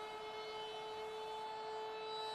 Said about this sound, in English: Cranking the air raid siren.